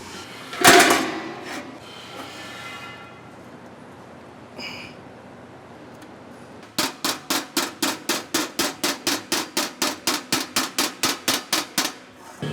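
Metal pieces are hammered flat to take out a bend, a rapid even run of about twenty sharp, ringing blows after an earlier clank and a quiet stretch.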